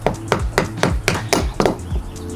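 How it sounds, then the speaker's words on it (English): A mallet drives a transom launch wheel fitting into the tight hole of a dinghy transom with about eight sharp, close knocks at a steady, slightly uneven pace. "I got a mallet here."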